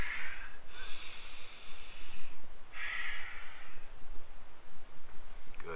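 Children breathing deeply during a beginner yoga stretch class, two long breathy exhales with quieter inhales around them, close and clear with no talk.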